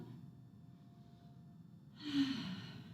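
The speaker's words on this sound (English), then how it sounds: "Nice mindful breathing." A soft, audible breath, likely an exhale, during a standing prenatal yoga flow. It comes near the end as a brief, close breathy rush over a quiet background.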